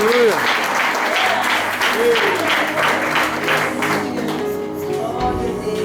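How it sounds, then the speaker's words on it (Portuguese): Church congregation clapping during a worship service, loud, continuous applause with a voice speaking over it and tonal sounds fading in near the end. "Aplauda o Senhor Jesus."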